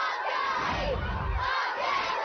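A crowd of schoolchildren at McKinley Elementary School in Montgomery County roars and shouts together, cheering for the Phillies. The cheer is loud, close and sustained, with no other sound over it.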